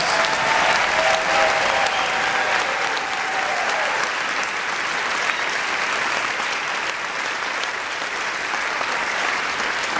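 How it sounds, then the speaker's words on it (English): A concert audience applauds warmly after a choir performance, dense steady clapping that fills the space and gradually eases off, with faint voices mixed in early on. "give a round of applause to the Bear, Bear Clan Patrol"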